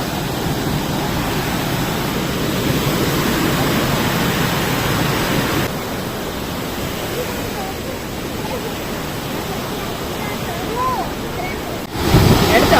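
Water rushing and tumbling down at a scenic spot along a lonely road, a loud, dense roar that steps down partway through and swells again near the end.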